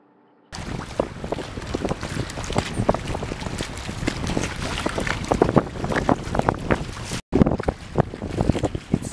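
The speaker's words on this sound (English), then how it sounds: "It's very hard wind." Strong gusty wind buffets an offshore diesel yacht at sea, roaring and rumbling against the microphone in uneven surges with a brief dropout near the end, with no voices over the steady blustery noise.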